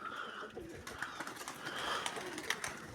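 Pigeons coo and murmur in a steady layer, with a few sharper chirps and rustles scattered over the three seconds, moderately close.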